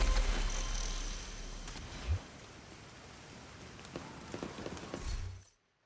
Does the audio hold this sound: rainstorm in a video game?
yes